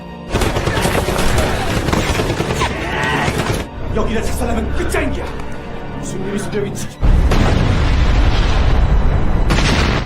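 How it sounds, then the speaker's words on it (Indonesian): An enemy bunker is blown up in a battle, heavy explosions and rumbling blasts filling most of the stretch, with a lull of mixed gunfire and clatter in the middle before another loud burst, while a narrator talks over it. "kemudian dilanjutkan dengan meledakkan bunker yang lain"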